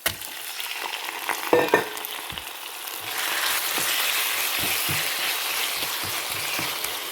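Chicken pieces frying in a pan with onions for a pepper chicken fry, a steady close sizzle with brief stirring clatter partway through, no voices.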